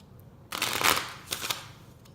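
A card is drawn from a crystal oracle deck: after a quiet start, a close, soft papery rustle and slide comes in two short bursts, then fades.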